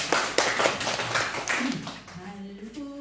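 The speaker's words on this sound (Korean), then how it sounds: "다시 한번 우리 박수 하겠습니다." A church congregation at a Sunday service claps together, with quick, sharp hand claps for about two seconds that thin out as sustained musical tones and singing start to rise underneath.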